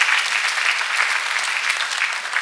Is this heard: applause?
yes